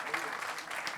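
Brief burst of audience applause for a guest speaker at a lecture, dense and steady for about a second.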